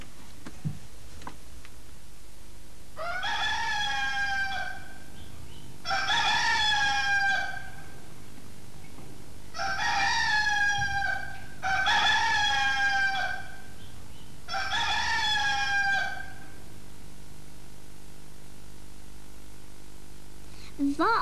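A rooster crows five times in a row, loud and close, each call a drawn-out cock-a-doodle-doo with short pauses between, and no other voice is heard.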